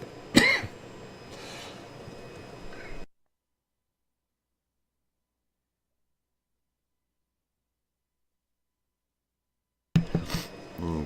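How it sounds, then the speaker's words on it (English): A single cough during a livestream of volcano footage, sharp and close, followed by a long stretch of silence before faint background noise returns. "had to cough"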